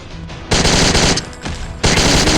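Loud, rapid automatic gunfire from a weapon in a horror video game, coming in two sustained bursts separated by a short pause, close and dominant.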